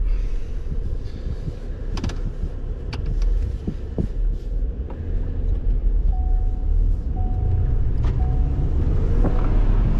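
A Ford F-150 pickup, freshly fitted with a new rack and pinion, reverses slowly during a test drive, its engine a steady low rumble close by, with a few clicks and a faint intermittent whine.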